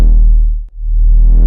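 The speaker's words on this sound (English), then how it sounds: "so as you can see, it's a pretty short 808 we ended up with" A single short 808 bass hit plays alone: a deep, loud boom sustains for about a second and a half with a brief dip midway, no voices over it.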